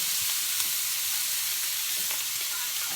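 Bell peppers and onions fry in a pan over a lowered flame, giving a continuous close sizzle with faint scraping as they are pushed around.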